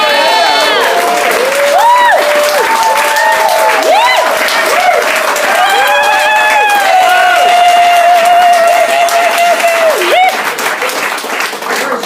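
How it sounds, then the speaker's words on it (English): An enthusiastic midday crowd cheers and applauds loudly and steadily throughout, with whoops and shouts rising over continuous clapping. "No doubt this is the most enthusiastic noon crowd."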